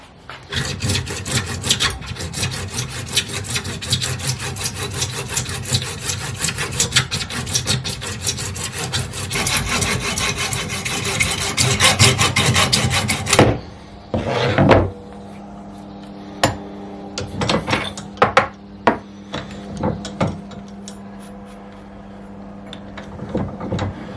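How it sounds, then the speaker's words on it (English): Hacksaw trimming an IBC tank tap adapter, rapid rhythmic back-and-forth rasping strokes close up for about thirteen seconds, then stopping, followed by a few scattered knocks and handling clatters. "Measure it off and then trim it off with a hacksaw."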